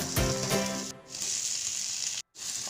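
A potato going into onions and spices frying in a pan, with a loud continuous sizzle and a few clattering knocks at the start, then a brief cut to silence before the hiss resumes.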